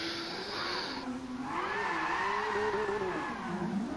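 A drifting car in Gran Turismo Sport on the Nordschleife, its engine revving hard and bouncing off the rev limiter, with a tire squeal at the start and shifting, sustained engine tones throughout, loud and alone.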